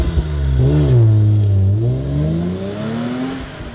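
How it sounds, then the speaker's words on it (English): BMW M5 E34 accelerating hard in first gear, loud engine note sweeping up, dipping briefly at a shift and climbing again, heard alone without talk. "let's have a little go at seeing what it's like at accelerating in first"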